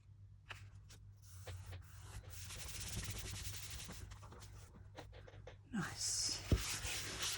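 The edges of a handmade junk journal book are sanded with soft, raspy rubbing strokes, quiet and close, with brief pauses between passes.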